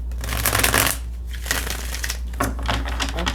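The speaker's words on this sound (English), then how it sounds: "let's shuffle again and then we will see what the tarot cards will show us for you" A deck of tarot cards being shuffled up close, with loud, riffling, papery bursts broken by short pauses and a steady low hum underneath.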